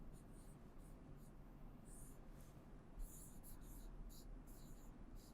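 Pen scratches faintly across paper as someone handwrites a letter in Devanagari script, soft intermittent strokes over a low steady background hiss, with no talking.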